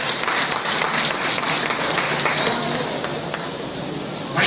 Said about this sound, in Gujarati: એ કારણ જોરદાર તાળીઓથી વધાવો